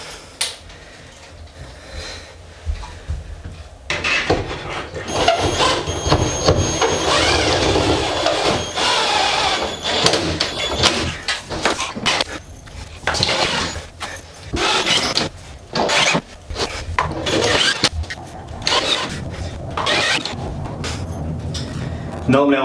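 Screwdriver or drill driving screws through plasterboard into a ceiling, fixed with expanding foam adhesive: a quiet start, then loud, continuous whirring and clattering from about four seconds on, broken by repeated short bursts and bangs.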